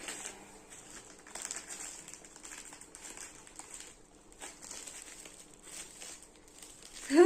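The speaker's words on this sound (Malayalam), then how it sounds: "നമുക്കിത് അൺബോക്സ് ചെയ്യാം" Paper wrapping on a book package crinkles and rustles softly and almost continuously as it is opened, close but quiet, ending in a slightly louder crackle.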